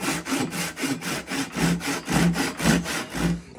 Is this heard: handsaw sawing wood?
yes